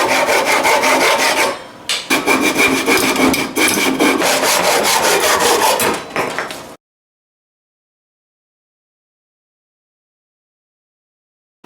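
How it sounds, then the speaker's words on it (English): Power sander grinding against a wooden sword pommel, shaping it into a round profile; a loud, steady rasping abrasion with a couple of brief pauses, then cutting off abruptly into silence partway through. "Then I'm going to take my sander and shape it out as best as I can to get a nice circle."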